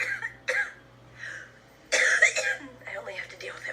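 A person with cystic fibrosis coughs in a few separate bursts, close and fairly loud, with throat clearing and some voiced sounds mixed in.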